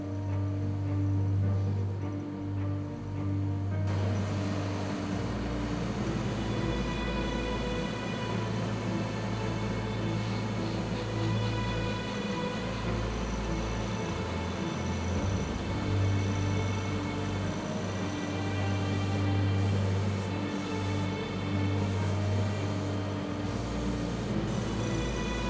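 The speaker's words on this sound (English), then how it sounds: "Stynylrez Res Black thinned with UMP acrylic thinner through my airbrush." An airbrush sprays Stynylrez black primer thinned about half and half with acrylic thinner onto a miniature model, making a continuous, soft, even hiss up close that pauses and resumes briefly, with no voices.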